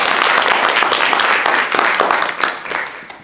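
An audience at a community meeting applauds food truck volunteers, a loud, dense wash of clapping that holds steady and then tapers slightly.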